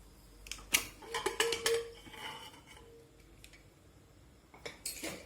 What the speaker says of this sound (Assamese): এতিয়া মই কুকাৰটো খুলিম।